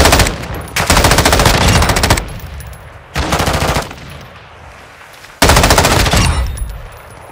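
Call of Duty Modern Warfare 2 machine gun fire comes in three long, loud, rapid bursts with short gaps between them, close and dominant, with no talk.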